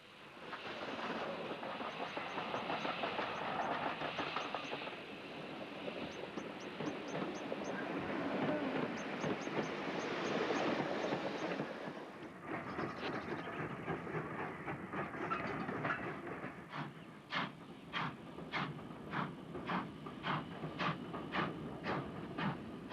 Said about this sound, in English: Running automatically for 8 hours a day, 7 days a week, this superb O-gauge railway has everything